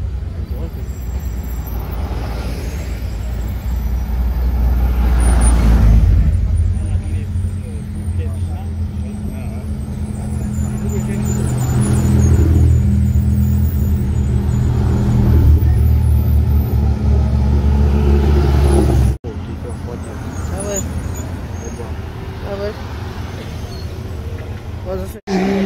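A BMW 135i coupé race car in the regional L2 class runs a hill climb at La Roche–La Berra, its loud engine surging and fading in repeated waves beneath continuous commentator talk.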